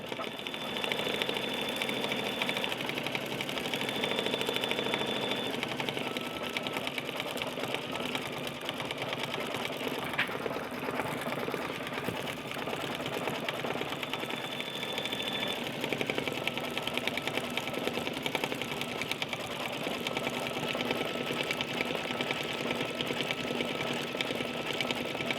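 Home sewing machine stitching fabric pieces of a baby bear lovey, a fast, continuous mechanical whir and rattle running close and steady throughout with only slight variations, no voices.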